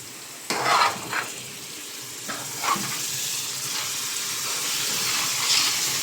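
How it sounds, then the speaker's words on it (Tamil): Green chillies are stirred into sizzling masala for a large batch of wedding-style chicken vadi biryani, with scraping strokes over a steady frying hiss close by and no talking. "இதையும் சேர்த்து நல்லா மிக்ஸ் பண்ணிக்கலாம்."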